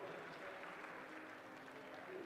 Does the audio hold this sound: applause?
yes